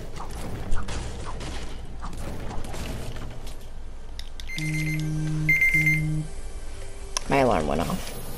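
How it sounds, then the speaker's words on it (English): An alarm clock beeps in repeated short electronic bursts partway through, loud and steady, with game sounds and a talking voice around it and a sharp warbling tone at the end. "My alarm went off."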